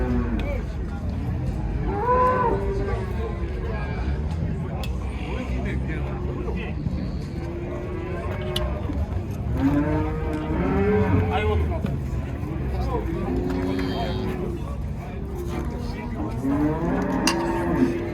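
Cattle low repeatedly at a livestock market in Kyzylorda, long moos rising and falling one after another against a busy background of people talking and distant engine noise.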